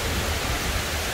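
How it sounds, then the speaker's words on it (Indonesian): Very heavy rain pours steadily in a dense, continuous wash of broadband noise, loud and close, with strong wind shaking orange and petai trees; no one speaks. "Ini hujan gede banget tuh."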